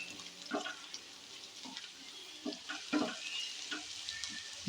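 Onions frying and being stirred in a pan for tuver totha: a steady hiss of sizzling oil with several scraping stirs at an uneven rhythm, close and moderately loud, with no one speaking.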